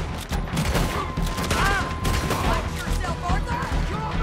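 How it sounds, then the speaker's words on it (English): Dual-wielded pistols firing in Red Dead Redemption 2 during an escape on a tram, dense overlapping shots and clatter running continuously under game noise and talk. "Time for the dual wielding pistols."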